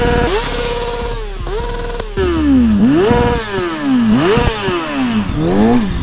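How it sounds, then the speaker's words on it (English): A Kawasaki 636 sport bike engine revs repeatedly against the rev limiter, close and loud, its pitch climbing and dropping in sharp sweeps with a stuttering buzz at each peak. "enough rev limiter coasters on this thing. She sounds great."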